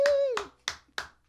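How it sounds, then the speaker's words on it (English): A few people clap together at a Christmas carol singalong concert, with sharp separate bursts at a steady beat. A short sung or spoken tone opens the sound. "Everybody clap for Karen."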